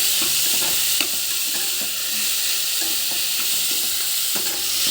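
Broad beans fry in a pan with coconut spice powder of coconut, garlic, cumin, chilli and salt, sizzling loudly and steadily while a spoon stirs with repeated scraping clicks and taps.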